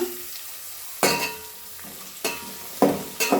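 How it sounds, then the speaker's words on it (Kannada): Onions for chicken biryani fry in a pan with a soft continuous sizzle, broken by four sharp stirring scrapes spaced about a second apart, close and alone with no voices. "ಸೊ ಚೆನ್ನಾಗಿ ಈರುಳ್ಳಿನ ಫ್ರೈ ಮಾಡ್ಕೊಳ್ಳೋಣ"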